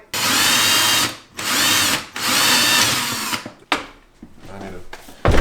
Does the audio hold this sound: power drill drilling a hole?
yes